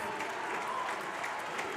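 A basketball crowd claps and cheers loudly and steadily in an arena, a sustained wash of applause with no pauses.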